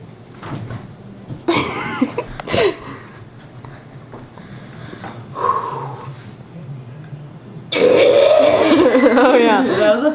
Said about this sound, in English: That was a fake burp